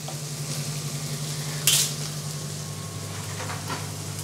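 A buckwheat galette topped with ham, egg and cheese cooks on a crêpe griddle, giving a soft continuous sizzle with a low steady hum beneath and one brief sharp clink of metal partway through.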